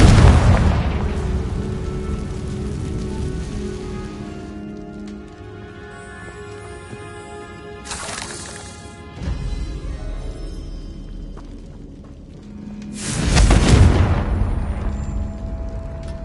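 Confringo fire spells explode in the video game Hogwarts Legacy: three booming blasts, loud at the start, again around the middle, and strongest near the end. Each blast trails off into a crackling, rumbling decay with quieter gaps between them.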